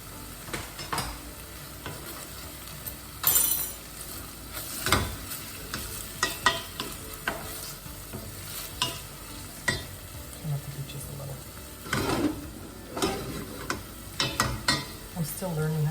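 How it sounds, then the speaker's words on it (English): Garlic tossed into a pan of softening peppers on a propane gas stove sizzles and fries, with occasional stirring and clinks of utensils against the pan throughout; no talking. "I'm going to throw in the garlic now, seeing that the peppers are starting to soften a bit."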